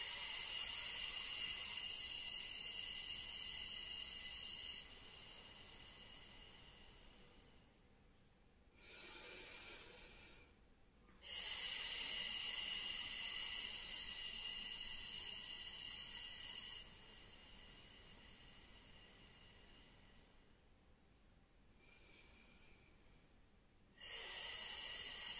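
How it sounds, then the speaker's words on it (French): Forceful breaths during a breathing exercise, long hissing exhalations and inhalations alternating in slow cycles with brief pauses between, close and steady, no talk. "J'inspire et je presse en soufflant."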